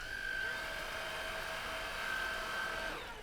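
A Riccar R65 vacuum cleaner with an electric power nozzle switched on and running, a steady loud motor whine with a high tonal hum that holds evenly for a few seconds, with no talking.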